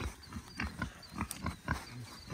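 Berkshire and Duroc pigs on a farm grunt and snuffle close by, a run of short, rhythmic low grunts with a few higher squeals mixed in, loud against quiet outdoor background.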